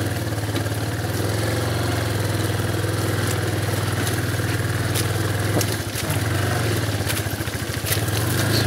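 A motorcycle engine labours at low, steady revs while riding through thick mud on the BR-319 highway, loud and close throughout, with a rhythmic chugging patch and clattering from the bike near the end; no talking.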